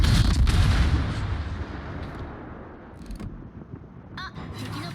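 Heavy battleship guns fire in World of Warships, including incoming 410 mm and 406 mm shells against the Nevsky, as loud booming blasts with long rumbling decay, followed by a few sharper distant reports.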